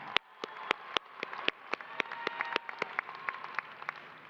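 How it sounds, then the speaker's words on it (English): Scattered clapping from a university commencement audience: sparse, separate claps that stay fairly faint and distant, with no steady roar of applause. "Let's give them a big round of applause."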